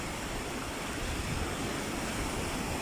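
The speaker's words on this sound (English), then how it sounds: "You can see the waves coming up." Ocean surf washes in as a steady, broad roar of breaking waves with little variation, full and close, with no voices.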